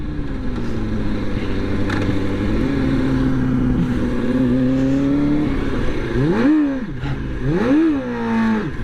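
Kawasaki 636 stunt motorcycle revving hard for a rolling burnout, a loud, close engine drone that climbs and sags, then kicks into several sharp rising-and-falling throttle blips near the end.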